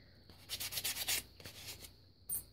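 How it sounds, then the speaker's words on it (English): Close, soft scratchy rubbing of sandpaper on a Vintaj DecoEtch metal bracelet piece with patina, in a quick burst of back-and-forth strokes, a pause, then a short final stroke. "sand this one too."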